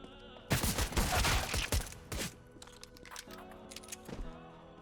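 A rapid burst of CS:GO gunfire crackles loudly for about two seconds, followed by a few scattered shots over a quieter electronic background.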